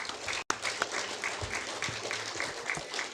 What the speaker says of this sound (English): Let's give another round of applause to both of our panelists